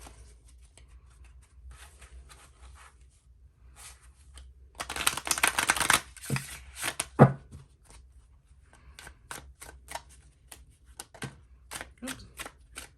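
Tarot cards being shuffled by hand in a quiet room, with a long dense riffle burst in the middle and scattered sharp card taps and flicks before and after, close and fairly quiet.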